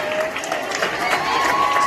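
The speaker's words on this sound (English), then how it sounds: "Let us wish with claps" Students clap together for Teachers Day, brief steady applause from a group with a few voices mixed in.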